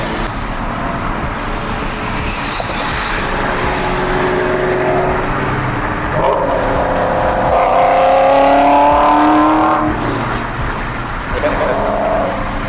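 A Ford Cobra fitted with a Procharger supercharger revs loudly nearby, its engine note swelling and falling across the clip while someone talks over the noise.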